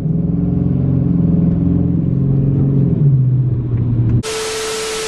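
A Dodge SRT8 Charger's engine drones loud and close during a pull, its pitch rising steadily before cutting off abruptly into hiss.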